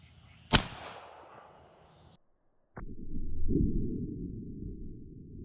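An 1886 lever-action elephant rifle fires a single subsonic lead load, a sharp close report followed by a decaying tail, then quieter handling noise.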